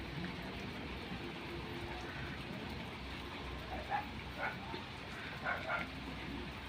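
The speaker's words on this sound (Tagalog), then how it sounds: "Ngayon lang talaga umulan." Rain falls in Baguio as a steady, even hiss that stays at a low level throughout, with a few faint, scattered knocks and tones over it.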